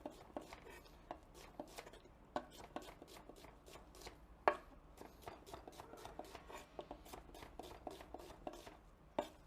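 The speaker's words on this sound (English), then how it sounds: "We're gonna cut the onions." A knife chops onions for a Greek dish cooked in a Dutch oven, with steady, fairly quiet cutting-board knocks repeating in a loose rhythm for about nine seconds and one sharper strike midway.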